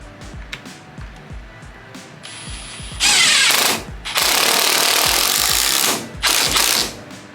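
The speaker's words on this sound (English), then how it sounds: "now to tighten this bolt back here" A bolt is tightened during a Fortune Auto 510 Series coilover install, with a run of quick, evenly spaced ratchet clicks giving way to louder sustained mechanical bursts, close by.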